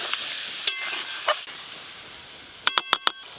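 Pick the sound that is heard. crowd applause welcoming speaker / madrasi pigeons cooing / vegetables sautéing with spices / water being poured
vegetables sautéing with spices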